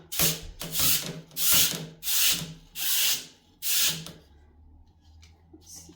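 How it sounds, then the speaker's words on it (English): A scrub brush rubs over a dried surface to lift off pollen during craft room cleaning, six loud close scratchy strokes in even rhythm, then quiet. "if I just go over it after it's dried with the scrub brush, I might get a little more of the pollen and stuff off"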